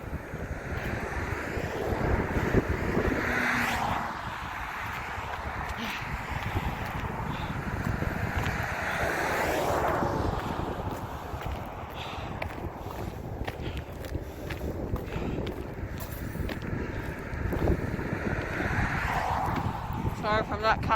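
Strong wind buffeting the microphone during an outdoor walk near a speedway, a steady loud roar with gusting swells and footsteps throughout, with a person talking intermittently over it.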